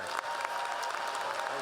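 A commencement crowd claps for the student speakers, a dense, steady burst of applause that is close and even from start to finish.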